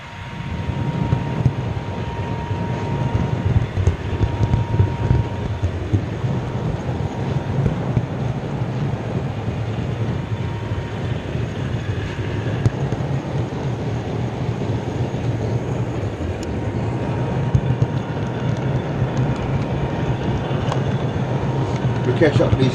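A miniature lakeside railway train carries passengers with a continuous low rumble and rattle, wind buffeting the microphone throughout and a faint steady tone.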